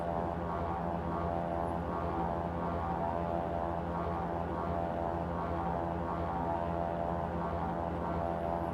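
A SeaRey Elite seaplane engine drones steadily throughout a scenic VFR flight over Rhode Island in Microsoft Flight Simulator, a continuous propeller hum at even loudness with no talk.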